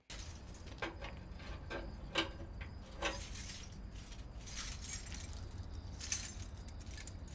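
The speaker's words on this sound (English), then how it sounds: "Damn, how many keys you got," A bunch of keys jangles almost nonstop for several seconds in a scene from the 2008 Korean thriller The Chaser, with repeated metallic clinks over a low, steady background rumble.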